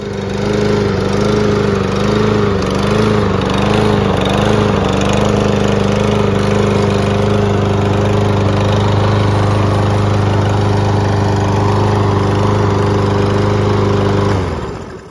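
A Troy-Bilt TB110 push lawnmower engine runs rough, a loud close small-engine drone with uneven surging in the first few seconds settling into a steadier idle, then cutting off at the end, no voices.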